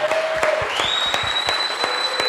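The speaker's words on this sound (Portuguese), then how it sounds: "Eu queria uma salva de palmas" Close, loud applause from a panel audience, steady clapping with distinct sharp hand claps throughout, accompanied by a sustained whistle-like tone that rises partway through.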